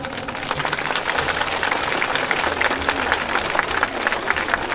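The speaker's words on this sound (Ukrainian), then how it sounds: "оплески нашим танцівникам" Applause from an audience for dancers at a Children's Day celebration, steady dense clapping throughout with a low hum underneath, moderately loud and without a break.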